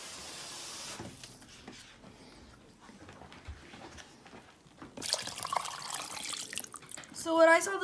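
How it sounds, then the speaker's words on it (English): Warm water runs from a tap into an Instant Pot holding chicken bones, starting faint and swelling into a louder, splashing pour toward the end, with voices talking over it. "We're gonna put some warm water in here, and then fill this up to the 2/3 line."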